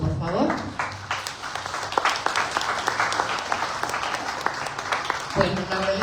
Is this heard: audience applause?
yes